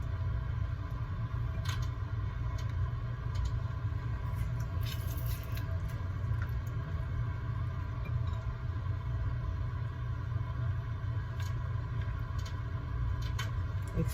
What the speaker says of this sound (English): So all those little weird noises that you hear, that is coming from my vent.